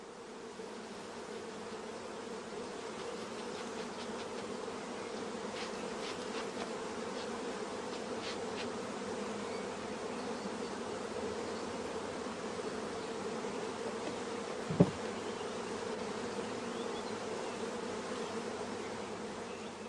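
Honeybees drone in a continuous, close buzz as a colony is brushed and funneled into a swarm box. One brief knock stands out partway through.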